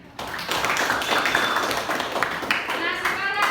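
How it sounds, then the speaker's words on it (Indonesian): Classroom applause from a group of students, a dense, steady patter of many hands clapping at close range for several seconds, with some voices mixed in. "Oke, tepuk tangan."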